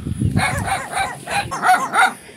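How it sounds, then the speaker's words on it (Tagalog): An angry dog out in the countryside barks in a rapid run of about six sharp, fairly close barks, with a low growl before the first. "Ayun, galit si aso."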